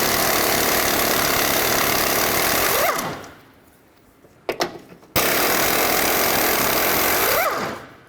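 A power tool runs loud and steady while removing 15mm strut nuts on a 2007-2010 Chrysler Sebring, cutting out briefly for a couple of metallic clanks before resuming at full buzz.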